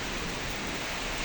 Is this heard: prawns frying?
no